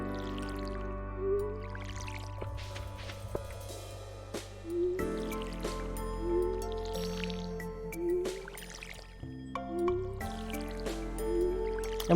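Watering can splashes onto crops in Stardew Valley, a series of short liquid bursts spaced a second or two apart over soft game music, with no talking.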